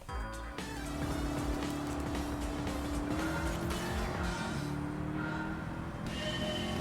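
An American muscle car racing three laps at Blue Moon Bay Speedway in Gran Turismo 7, its engine roaring continuously with shifting revs and tire squeal, loud and steady with no speech.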